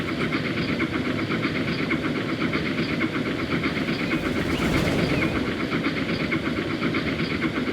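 A train runs along a UK branch line in the Transport Fever 2 video game, producing a steady loud rumble with rhythmic clickety-clack beats and a constant engine drone.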